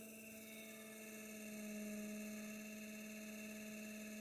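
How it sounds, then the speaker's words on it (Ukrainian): A faint electric motor hums with a steady, tonal whine and layered overtones, running continuously without interruption as it begins to lose speed. "і вже двигун починає скидати оберти"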